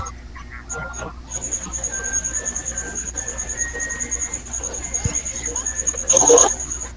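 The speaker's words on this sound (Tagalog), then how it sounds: "Maingay yung kuliglig at saka parang may sounds." Crickets chirp loudly in a steady high pulsing trill through the whole stretch, with a faint bird-like squeal near the end.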